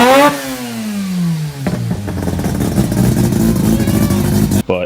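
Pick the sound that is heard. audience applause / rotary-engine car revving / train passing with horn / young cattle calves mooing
rotary-engine car revving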